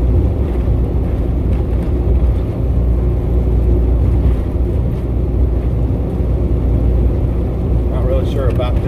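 Vehicle engine droning steadily while driving on a snow day, a loud continuous low rumble with road noise, a voice talking over it.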